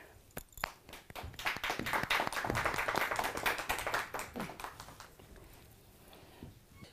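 An audience claps to welcome a man onto the stage at a business seminar, a dense burst of many hands that swells, holds for a few seconds, then thins to scattered claps as it fades.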